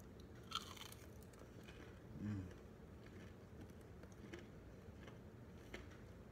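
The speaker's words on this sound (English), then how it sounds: "Swallowing these chicken nuggets." Close, quiet chewing of chicken nuggets dipped in Polynesian sauce, with soft crunching bites and mouth sounds over low room noise.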